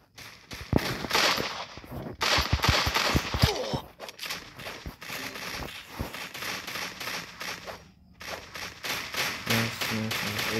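Shotgun fire in the mobile shooter Free Fire, rapid bursts of loud game gunshots in close succession with short gaps, continuing throughout at high volume.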